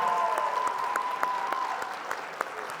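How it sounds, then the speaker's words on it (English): Applause fills the room at an annual awards meeting, a steady patter of many hands clapping with a faint tone running beneath it, fairly close and continuous. "Let's give them a round of applause."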